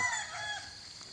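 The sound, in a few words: rooster crowing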